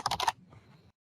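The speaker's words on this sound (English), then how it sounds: "So I'm just typing in some name" Brief typing on a computer keyboard while entering a name in additive manufacturing software, a quick cluster of close, crisp keystrokes followed by a faint low rustle before silence.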